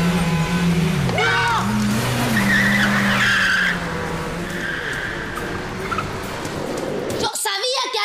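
A car skids hard in a crash, a loud screeching tire squeal sweeping and wavering for several seconds before cutting off abruptly, with shouting voices mixed in.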